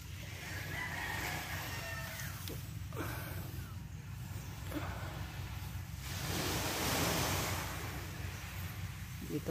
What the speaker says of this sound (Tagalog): Yung dagat ah, lakas ng alon.